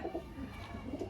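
Soft, low pigeon cooing murmurs continuously close by, the throaty calls rising and falling in gentle overlapping waves.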